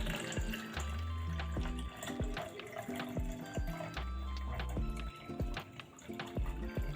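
Water runs and splashes into a homemade tank level indicator, a close trickling flow with uneven gurgles and drips mixed with low rumbling handling knocks.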